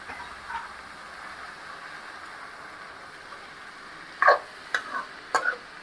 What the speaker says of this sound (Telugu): ఉల్లికాడలు వేసుకొని అవి ఫ్రై అయ్యేంత వరకు కలబెట్టుకోవాలి.